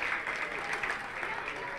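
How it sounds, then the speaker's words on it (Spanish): Audience at a HEBOCON robot competition event applauding, a steady continuous clapping wash from a crowd, fairly distant and moderate in level, with no clear talk over it. "Pues igualmente un fuerte aplauso para ellos."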